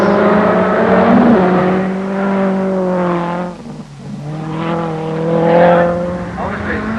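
A rally car passes on a forest stage, its engine note rising and falling as it approaches, dips, then revs hard again, with a commentator talking over it throughout.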